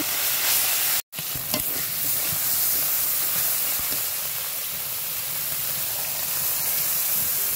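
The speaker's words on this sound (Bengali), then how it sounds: "কড়াইয়ের মধ্যে আমার বাটা মশলাগুলো দিয়ে দিচ্ছি তরকারিটা কষিয়ে নেওয়ার জন্য" Ground spice paste frying in a wok for a vegetable curry, a loud continuous sizzle and hiss close up, with a short scrape of stirring near the start.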